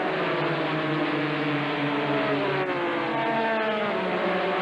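NASCAR Busch Grand National race cars circle an oval, their engines droning in a loud continuous blur with overlapping rising and falling tones as the pack sweeps past.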